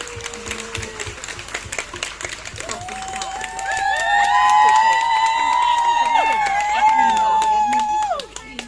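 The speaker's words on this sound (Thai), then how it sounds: "ขอเชิญพี่ยุ้ยปรบมือให้กับพี่ยุ้ยหน่อยค่ะ" Audience applause at a Thai stage event, a steady patter of clapping that swells midway and holds, with voices and tonal music layered over it.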